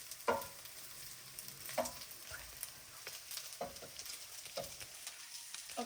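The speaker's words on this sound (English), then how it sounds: "Then you want to stir the salt." Egg fried rice sizzles faintly in a pan as salt is stirred in, with soft frying hiss underneath and several louder scraping knocks of the utensil at irregular moments.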